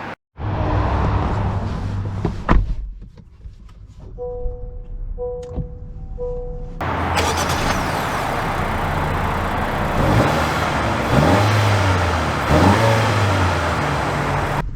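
A 2023 Honda CR-V EX-L pulling away, with a steady engine hum and road noise building after a short quieter stretch with a few soft chimes and clicks, heard from inside the cabin.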